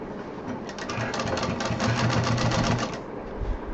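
A sewing machine stitching fabric for a large DIY backpack, running in one continuous rapid rhythmic burst of close, clear needle strokes before slowing at the end.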